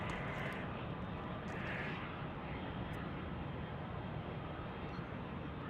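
An Embraer E145 regional jet of Piedmont bound for Tallahassee at Charlotte Douglas International Airport, a loud continuous broadband engine roar that holds steady throughout with no talk.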